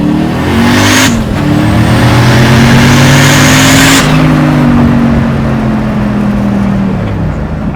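A 900-horsepower rusty car accelerates hard, its engine roaring loud and close with a steady rising pitch, a brief dip at a gear change, then a long sustained pull.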